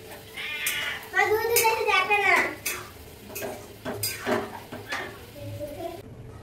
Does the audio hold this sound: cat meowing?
yes